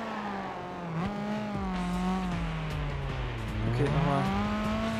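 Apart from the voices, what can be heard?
rally car engine and tires in Gran Turismo video game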